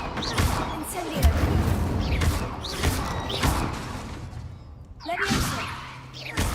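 Several Incendio fire spell blasts and other spell impacts from Hogwarts Legacy hit in quick succession, a rhythmic series of whooshing booms and crashes with voices heard between them.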